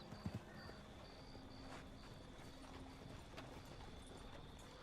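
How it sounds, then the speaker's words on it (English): Horse-drawn hunting wagon pulling up in the video game Red Dead Redemption 2, with steady hoof clip-clop and faint rolling noise over a low ambient background, no talk. "Here comes our hunting wagon."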